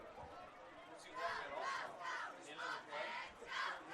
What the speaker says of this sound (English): the home crowd's going to let them know about that